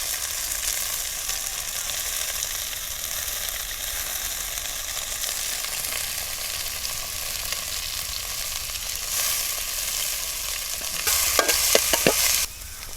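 Onions and green chillies sauté in a pan for pepper chicken, a loud continuous sizzle that runs unbroken, with several sharper stirring clinks and scrapes near the end.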